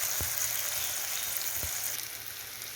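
Onions and garlic sautéing in oil for Chettinad vatha kuzhambu produce a steady, close hiss of frying, broken by two dull knocks of a spoon against the pan.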